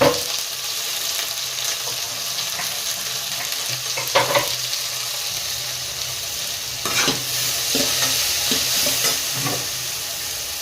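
Chopped tomatoes are stirred into a masala frying in a pan for a toor dal masala sambar, with a steady sizzle throughout and several sharp scraping stir strokes toward the end; no one speaks.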